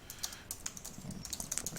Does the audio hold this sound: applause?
no